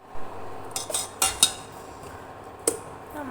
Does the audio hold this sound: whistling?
no